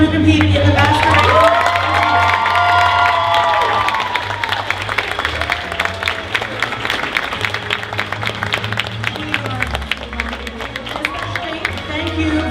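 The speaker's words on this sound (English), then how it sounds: "Can I get a round of applause for everyone who competed in the Masquerade?" Crowd at a Masquerade costume competition bursts into loud applause and cheering, with whoops and shouts over dense clapping at first, then settling into sustained clapping with scattered yells and chatter.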